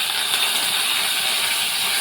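Mustard seeds, cumin and curry leaves sizzle in hot oil for a Marathi curd rice tempering, a loud, continuous crackling hiss close up with faint popping, no voices over it.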